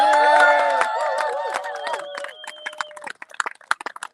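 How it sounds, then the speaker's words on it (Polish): Crowd at a Polish roundnet championship, mixed-pairs category: whoops and cheers fade into scattered claps, loud at first, then thinning to sparse individual claps. "dajcie teraz znać swoimi oklaskami, okrzykami"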